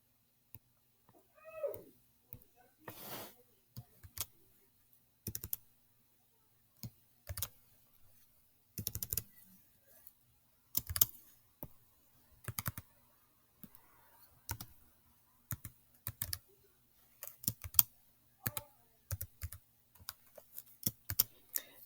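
Sparse bursts of keyboard typing on a computer, clicks clustered in short runs separated by pauses, close and fairly quiet, with no talking.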